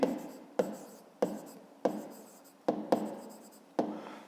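Pen writing by hand on paper during a Ukrainian fifth-grade maths exercise, a series of sharp scratchy strokes and taps recurring every half second or so, close and fairly quiet, with no talking.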